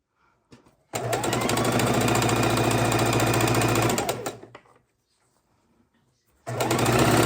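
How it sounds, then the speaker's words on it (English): A sewing machine joins the edges of two jelly roll quilt strips in a loud, steady burst of stitching lasting about three seconds, then winds down and stops; after a pause, the stitching starts again. "So now we're going to sew these two edges together."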